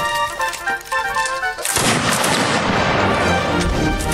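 A single loud rifle shot in Mount and Blade cracks sharply and rings out into a long, dense rolling decay, preceded by quieter game ambience.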